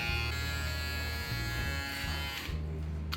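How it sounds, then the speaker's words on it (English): Electric razor shaving hair: a close, continuous buzzing hum with slight changes in pitch and texture as it moves, briefly easing near the end. "Time to shave."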